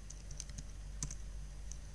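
C code typed on a computer keyboard, a quiet run of irregular key clicks over a low steady hum, with one slightly louder keystroke cluster, no speech.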